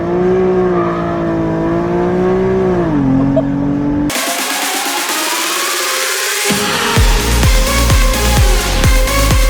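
Infiniti G37 with a VQ engine on a dyno in first gear, engine sound rising and falling, then a loud climbing rev with rapid pulsing at the top, steady and close throughout.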